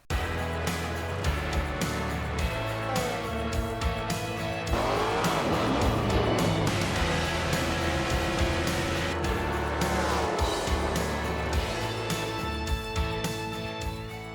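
Race cars roaring around Pocono in the NASCAR Heat 5 video game, a loud continuous engine drone with rising and falling pitch as cars pass close, plus occasional tire squeal.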